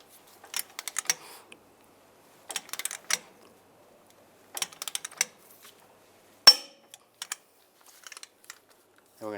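A ratchet torques the CV axle nut on a 1999-2005 Volkswagen Jetta, producing quick bursts of rapid clicking in short spaced groups, then one sharp, louder click.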